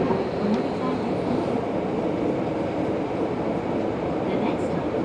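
A Tobu 70000 series commuter train rolls along the underground line between Naka-Meguro and Kita-Senju, its steady loud rumble and rushing hum filling the car throughout, with faint background murmur.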